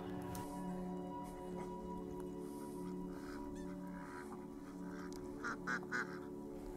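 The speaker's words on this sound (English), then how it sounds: "It's the only white duck here at the lake." A white duck at a lake quacks in a few short, close calls near the end, over a steady humming background.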